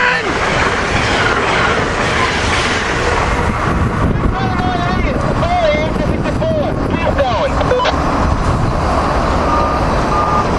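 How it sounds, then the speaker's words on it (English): An Amtrak Northeast Regional train led by an ACS-64 electric locomotive passing trackside, a continuous loud rumble with rail clatter and brief tonal squeals, while people talk nearby. "we got Northeast Regional Train 186 coming north. ACS-64 leading"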